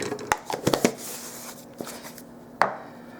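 Cornstarch scooped into paint for doll-size snack cake crafting, heard as a few close, soft scraping and tapping clicks clustered early, then one sharper tap after a quiet pause.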